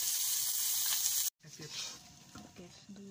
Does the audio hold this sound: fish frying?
yes